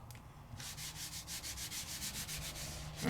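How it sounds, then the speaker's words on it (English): Colour rubbed and blended onto embossed matboard, a quiet, rhythmic series of soft scratchy strokes that start after a brief pause and repeat back and forth steadily. "Just scribble, scribble, scribble, rub, rub, rub."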